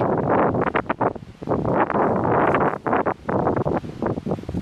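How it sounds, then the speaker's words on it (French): Strong wind buffets a microphone outdoors, a loud, low rumbling roar in uneven gusts with brief lulls between them. "Putain de vent"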